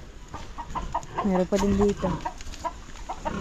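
A hen clucks in short bursts with a farmyard bustle behind, while people talk nearby.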